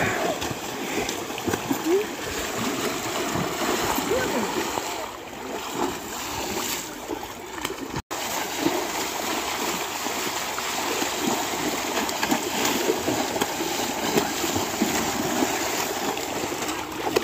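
People bathing and splashing in floodwater outdoors, with continuous sloshing and splashes heard close by under steady talking.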